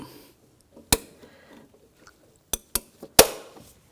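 Sharp metallic clinks from a hose clamp being shifted with pliers on a coolant hose of a 2004-2009 Audi A4 Quattro 2.0L, a handful of close, separate clicks with quiet gaps between them.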